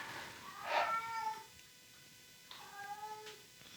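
Palantir the cat gives a loud drawn-out meow, then after a pause a softer second meow, both close against quiet room noise.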